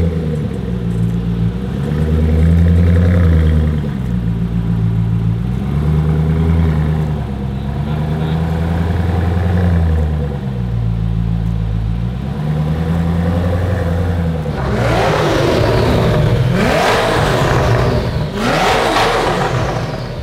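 The engine of a Lamborghini Murcielago under rebuild after a wreck revs up and down in several smooth, rising and falling sweeps, loud and close in a garage. Sharper, harsher blips of throttle follow near the end.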